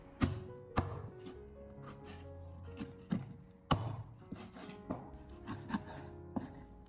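A kitchen knife slices a grass carp fillet into thick pieces on a cutting board, several sharp, close chops spaced irregularly with softer thuds and scrapes between them.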